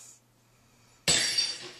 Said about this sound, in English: I believe there's actually like 4 different ones for the glass breaking.